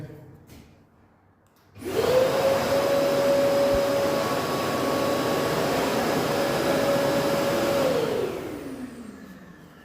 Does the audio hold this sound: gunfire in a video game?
no